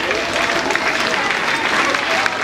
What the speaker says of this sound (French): On peut applaudir pour nos enfants.